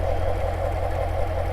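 A 6.2-liter LT1 aluminum direct-injected Chevrolet V8 in a 2017 Corvette Grand Sport idles steadily, a close, even low rumble with a pulsing throb and no voices.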